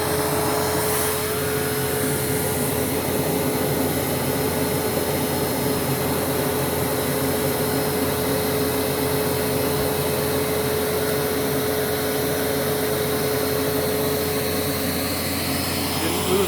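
Panasonic MCV-5217 vacuum cleaner running for an airflow test, a steady loud motor whine and rushing air that holds constant throughout with a single sustained tone.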